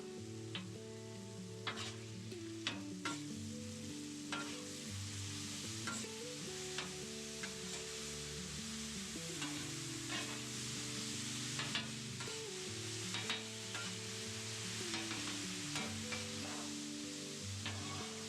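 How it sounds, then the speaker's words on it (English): Taco meat fries and browns across a griddle with a continuous close sizzle, broken by frequent scraping and stirring clicks, while soft tonal background music runs underneath. "Spread this out over my griddle to get as much cooking surface on this as I can to finish the browning and caramelizing."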